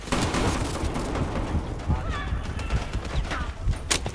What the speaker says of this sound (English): they will turn it instantly to shoot you